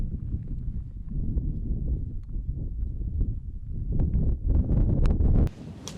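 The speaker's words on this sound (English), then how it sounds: "it's getting well windy" Gusty wind on Kinder Scout buffets the microphone in a steady low roar, swelling near the end before dropping away abruptly.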